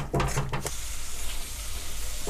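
Mutton kidney stir-frying with cumin powder and garam masala, a steady close sizzle with a few scraping stirs at the start, no talking.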